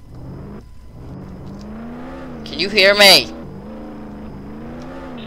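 A Roblox Jailbreak car engine hums and briefly revs up to a loud, rising whine midway, with a person talking over it.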